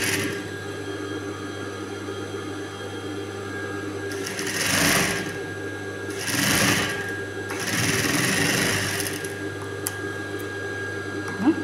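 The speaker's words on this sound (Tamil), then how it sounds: "இது கொக்கி பட்டி தைக்கிறேன்." A sewing machine stitches a hook strip onto a blouse, running with a steady close whir and hum throughout, broken by three louder surges of fast stitching in the middle.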